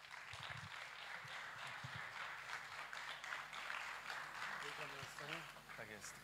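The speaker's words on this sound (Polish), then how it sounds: "Powitajmy go oklaskami." Audience applause greeting a colonel invited on stage at a forum event, steady moderate clapping from a crowd sustained throughout, with a voice speaking over it near the end.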